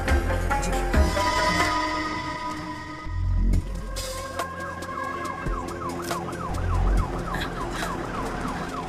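An ambulance siren wails in a repeating rising and falling pattern in a film scene, starting partway through and continuing steadily at moderate distance alongside low traffic rumble.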